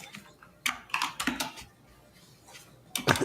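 Computer keyboard typing heard through a caller's background audio on a live trading stream: bursts of rapid clicks in a few clusters, with quieter gaps between, fairly close and crisp.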